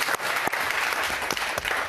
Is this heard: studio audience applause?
yes